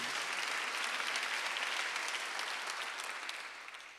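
A church congregation claps together during a Sunday worship service, a fairly faint, distant wash of many hands that stays steady, then eases slightly toward the end, with no voices over it.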